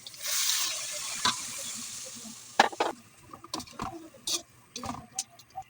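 Water splashes into a pan of pork afritada simmering with pepper and seasoning: a short rushing pour at the start, then scattered clinks and light clatter of utensils against the pan.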